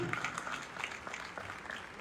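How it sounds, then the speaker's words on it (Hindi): At a political speech event, an audience claps in a faint, continuous patter of applause that is heard from a distance, with some faint voices mixed in. "इसके लिए आप लोगों को जोरदार ताली बजानी चाहिए"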